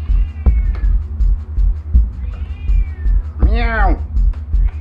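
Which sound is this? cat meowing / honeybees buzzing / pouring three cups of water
cat meowing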